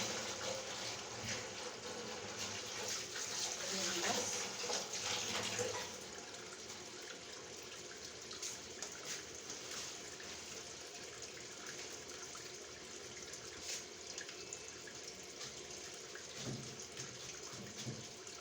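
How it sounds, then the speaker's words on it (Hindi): Water drains and splashes out of freshly washed dishes in a home kitchen, a steady faint rush that is heavier for the first few seconds and then continues as a thinner, ongoing flow. "तो पानी भरा हुआ था उनका वो निकालना।"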